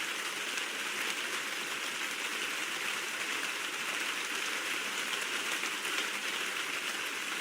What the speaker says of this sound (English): Why is it raining in Monkey Game?